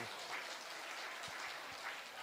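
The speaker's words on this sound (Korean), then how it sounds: "박수." Crowd applause at a revival meeting, steady, even clapping from a large gathering held at a distance and fairly faint, with no break over its short length.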